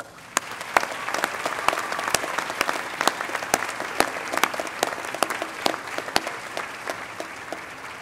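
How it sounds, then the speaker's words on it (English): A commencement audience claps for graduates' friends and family, a dense, sustained round of applause with sharp individual claps popping out near and far across the hall. "would you please join me in a round of applause for your friends and family?"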